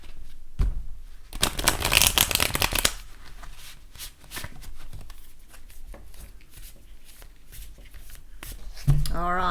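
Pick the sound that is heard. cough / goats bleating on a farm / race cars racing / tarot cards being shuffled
tarot cards being shuffled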